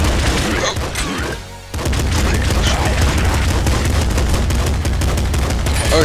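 Relentless machine gun fire in the Nuclear Throne video game, dense and loud, rattling on almost without a break apart from a brief gap near the start.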